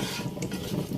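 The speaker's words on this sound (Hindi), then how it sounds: "इसको भी इसके अंदर अच्छी तरह मिक्स करना है।" Milk and cream are stirred into a white mutton karahi in a pot, a soft continuous wet swishing and sloshing close by, with no talk over it.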